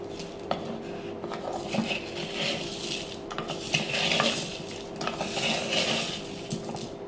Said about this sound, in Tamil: தண்ணி படாமல் கையும் படாமல் இந்த மாதிரி கிளறி விடலாம்.